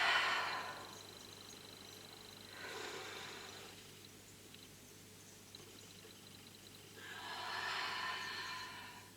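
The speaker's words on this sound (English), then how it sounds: "and breathe out." Slow, audible out-breaths during a gentle belly dance and qigong-style warm-up, three soft airy exhales spaced several seconds apart with quiet pauses between, close and alone with no talking.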